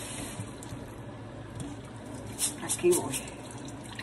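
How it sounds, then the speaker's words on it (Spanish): Rice washed in water in a home kitchen, with a steady wash of running water throughout and a person briefly speaking over it. "Yo estoy lavando el arroz, como siempre le he dicho, bien lavadito"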